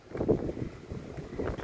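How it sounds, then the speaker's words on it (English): Gusty wind buffets the microphone, producing low rumbling bursts and muffled thumps over a short stretch. "it's getting pretty windy out here"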